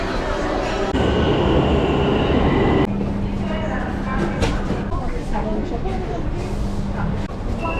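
A metro train in Iran rumbling loudly with a steady whir and a lower hum, brakes hissing partway through, people talking faintly in the background.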